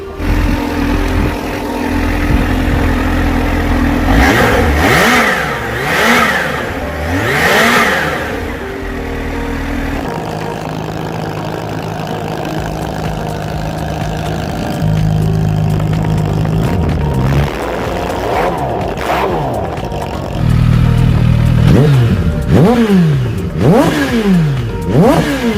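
A Kawasaki Z H2 motorcycle engine blips through repeated sharp revs with rising and falling pitch, settling between bursts into a steady mid-range idle, loud and close throughout with no talking.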